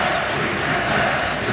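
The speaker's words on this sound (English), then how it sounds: "Home crowd trying to spur on Guatemala in need of points in the standings." Home crowd at a Guatemala vs USA 2006 World Cup qualifying football match in 2005 roars in a dense, continuous wash of cheering that stays loud and steady throughout.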